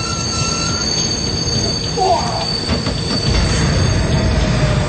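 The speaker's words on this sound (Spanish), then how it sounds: "El tren realizaba una abrupta parada en la estación de Itami." A passenger train brakes abruptly on arrival at Itami station, producing a loud continuous high-pitched wheel squeal over the heavy rumble of railcars, with the low grinding growing stronger toward the end.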